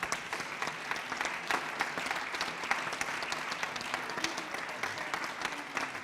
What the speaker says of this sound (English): So while you continue to applause